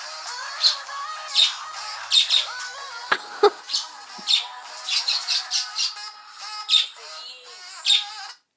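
A pet bird squawks repeatedly along to pop music, loud close bursts at a steady, beat-like pace over the tune.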